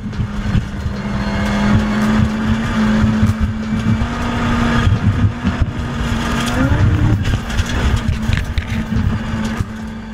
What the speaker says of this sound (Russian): Волнующие кадры изнутри гоночной машины, на которых видно, как уверенно водитель справляется с управлением на высокой скорости по грунтовой